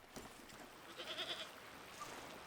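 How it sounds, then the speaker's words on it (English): Goats bleat in a video game, a couple of faint, high, wavering calls rising over a soft steady background hum, with no talking. "What are these strange goat-like creatures?"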